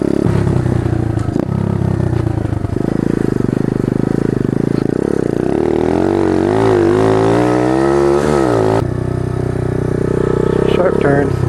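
A pit bike engine drones loudly and close while being ridden through the streets, its pitch rising and falling with the throttle and clattering now and then. A voice talks over it.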